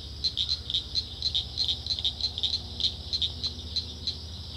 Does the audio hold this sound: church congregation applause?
no